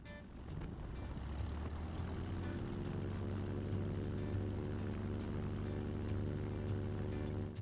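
A small propeller aircraft, a Bonanza, runs up and takes off at San Jose airport, with a steady loud engine drone and a rising propeller tone.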